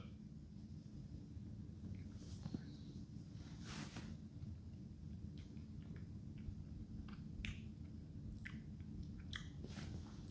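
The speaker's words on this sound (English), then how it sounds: "Get another sip." Faint, scattered slurps and soft mouth clicks as Balblair 12 Scotch whisky is sipped and tasted in a quiet room.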